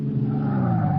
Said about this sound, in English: I slam on the brakes.